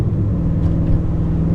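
An Audi RS5 with a titanium exhaust rumbles loudly and up close, its engine note pulsing unevenly as if blipping through downshifts, with no talking over it.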